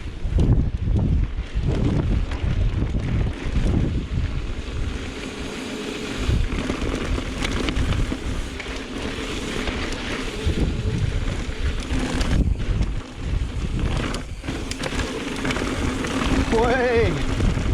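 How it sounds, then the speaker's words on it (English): Strong wind roars across an open moor during a mountain bike descent, buffeting the microphone in a loud, continuous rumble with gusty swells. Riders' voices come through faintly beneath the noise. "Oh, the wind just wants to take you."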